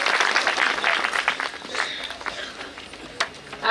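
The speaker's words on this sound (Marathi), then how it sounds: "सगळ्यात पहिले तुम्ही जोरदार टाळ्या वाजवा" An audience at a Marathi kirtan bursts into loud, sustained applause. The clapping is thick and continuous with a few sharper claps standing out, and it swells again near the end.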